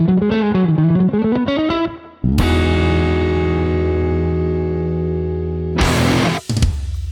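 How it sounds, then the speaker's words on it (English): An electric guitar runs through the Anasounds/Third Man Hardware La Grotte spring reverb pedal: a wavering chord, then a sharp struck chord ringing out in a long, splashy spring-reverb decay, ending with another abrupt burst. "Today we're checking out the Grotte Spring Reverb from Anasounds and Third Man"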